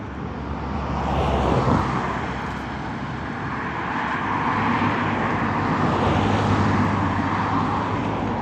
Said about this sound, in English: I've got to watch the traffic because it curves on a bend.